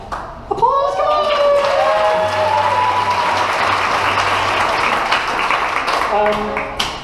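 Audience at a variety show applauding steadily for about seven seconds, a dense sustained wash of clapping with a few cheers and whistles rising above it, loud and close throughout.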